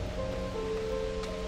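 A wind attack effect from the fantasy RPG Battle Chasers: Nightwar gives a steady, rushing whoosh of airy noise. Soft tonal music runs beneath it for the whole short stretch, with no talk.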